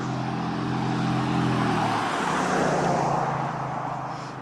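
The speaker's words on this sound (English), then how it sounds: "You're going to hear a little more car noise than usual from me today." A car passes close by on a road beside a sidewalk during a run, a loud swelling rush of engine and tire noise that peaks mid-pass and fades slowly into steady traffic hum.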